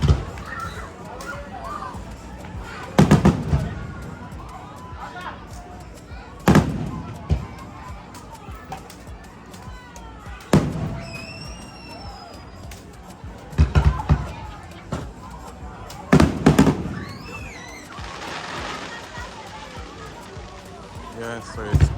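Fireworks bursting at a Pirate Week celebration in Grand Cayman: several sharp, booming bangs spaced a few seconds apart, with crowd murmur and voices chatting between blasts.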